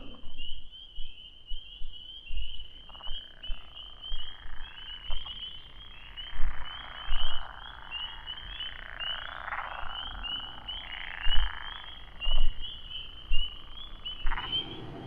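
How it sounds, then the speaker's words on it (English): Spring peepers and frogs call at night in the woods, a dense chorus of high, shrill peeps repeating steadily throughout, with louder individual calls popping out near and farther frogs blending into a continuous background. "listen to all the peepers and listen to all the frogs."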